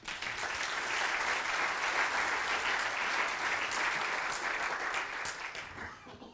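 Audience at a leadership awards ceremony applauds in a steady, sustained wash of clapping that holds evenly for several seconds before easing off at the end.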